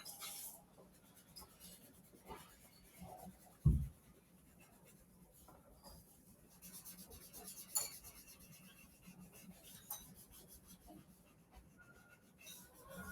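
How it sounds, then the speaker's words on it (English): Soft, scratchy strokes of a 4B pencil shading on paper, close and faint, repeated in uneven bursts with a single sharper tap partway through. "we're using the 4B pencil for this layer"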